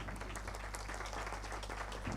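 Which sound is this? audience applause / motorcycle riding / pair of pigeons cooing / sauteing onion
audience applause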